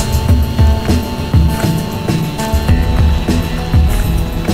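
A drone flying in the video game Thief Simulator 2, a steady loud rotor whir with rhythmic pulsing beats, continuous and close.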